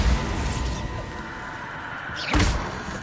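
A Bombarda blast spell from Hogwarts Legacy hits with a sharp, loud thudding crack partway through, followed by a low rumble, set against a steady background wash of game ambience.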